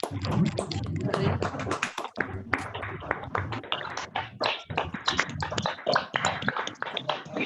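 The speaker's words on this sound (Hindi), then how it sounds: "आप सब लोग भी तालियां बजा सकते हैं" Online meeting participants clapping after a guided meditation session, uneven unmuted claps from several people layered together, close and irregular, with small gaps.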